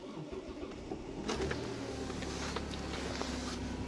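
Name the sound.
Hyundai New Grandeur 2.5 V6 car engine starting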